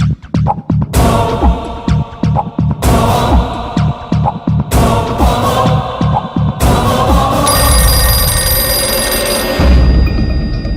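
A telephone rings loudly and up close in repeated bursts of bright ringing with short gaps between them. No voices are heard over it.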